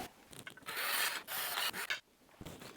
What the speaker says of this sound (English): what I'm going to do is finish this drilling with the body standing upright and the pick guard laying away from it